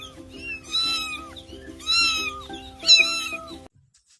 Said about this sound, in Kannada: The sound of the cat is ಮೇವ್ ಅಂತ ಹೇಳ್ಬೋದು.